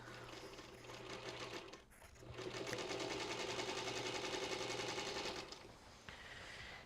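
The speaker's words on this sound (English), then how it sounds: "I'm going to put them right sides together, and I'm just going to start sewing along this long edge all the way down." A Singer Featherweight sewing machine runs a long jelly roll quilt seam with a steady, close whirring hum. It pauses briefly early on, then resumes and runs for several seconds before slowing to a stop.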